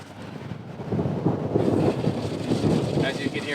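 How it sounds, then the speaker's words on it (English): Low, rolling thunder rumbles for several seconds, heavy and broad, with a bit of wind buffeting the microphone and no speech. "As you can hear, a little bit of thunder and lightning too."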